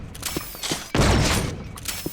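A loud blast of Flak Cannon primary fire in the video game Unreal bursts out midway, a heavy crunching boom with mechanical clicks and rattles before and after.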